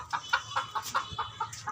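Chickens cluck in a steady run of short, close calls, about eight in under two seconds, with no voices.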